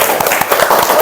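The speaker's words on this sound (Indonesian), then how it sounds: "tepuk tangan untuk temannya" Classmates in a classroom give a short burst of applause for a fellow student after a maths answer, clapping steady and close for about a second with voices mixed in.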